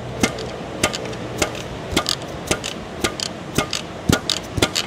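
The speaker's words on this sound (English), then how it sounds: "let us utilize a screwing driver to work this little adjuster wheel here. I believe maybe some pliers would be best on this." Pliers clicking against the adjuster wheel of a drum brake during a no-parts repair for a brake pedal sinking to the floor: sharp metallic ticks repeating about twice a second, close and distinct, with no voices.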